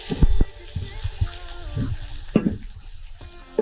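Water poured into a hot pan of browning seitan and onion hisses and sizzles, with scattered clanks and splashes, fairly close and loud.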